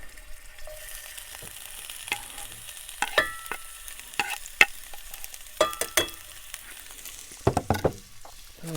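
Ground beef and onion sizzle in a pan over a campground stove, with a steady low frying hiss broken by sharp scraping and clinking strokes of a utensil stirring and breaking up the meat.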